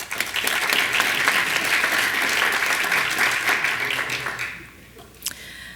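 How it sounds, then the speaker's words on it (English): Sustained applause from a crowd at a community event about the Stevens Creek restoration plan in Cupertino fills the room steadily, then thins out and fades toward the end. "Barbara, clap."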